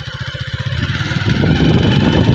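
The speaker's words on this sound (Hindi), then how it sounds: "जन्नत तो इतने अच्छे से बाइक चला रही है" A motorbike ridden by Jannat Fatima putters close by in even, rapid pulses, then its engine note climbs into a louder, steadier revving as it pulls away.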